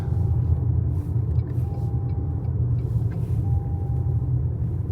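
Car driving along a road near an airport while following an aircraft, a steady low engine and road rumble heard from inside, with faint intermittent whine tones over it and no talking.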